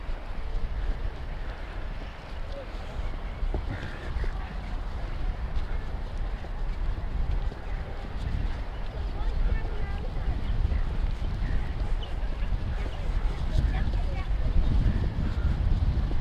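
Steady wind buffeting the microphone at the Rockingham foreshore, a continuous low rumbling roar with gusty swells, close and fairly loud throughout.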